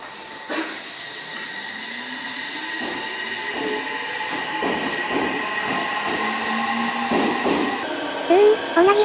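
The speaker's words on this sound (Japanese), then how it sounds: "今度は片瀬江ノ島方面へ行く電車の発着です。" An Odakyu Line train rolls through Fujisawa Station, Japan, with rumbling wheels and rhythmic clatter, rising and falling tonal whine, and high wheel squeals near the end.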